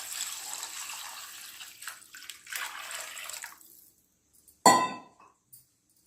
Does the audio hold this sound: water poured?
yes